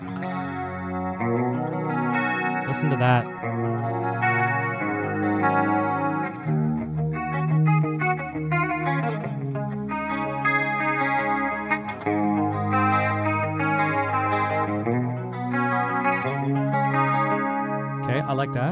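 Electric guitar through the chorus effect on a Line 6 HX Effects unit, playing continuous chords and riffs with a shimmering, wavering, doubled tone at steady volume, while a voice speaks briefly over it.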